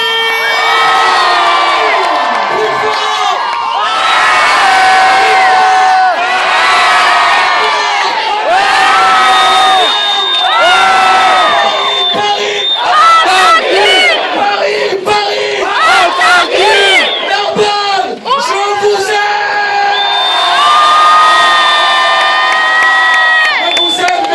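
A packed cinema audience in Narbonne cheers, screams and whoops loudly for nearly half a minute. Waves of shrill shouting come from many voices at once, with whistles and yells rising and falling throughout.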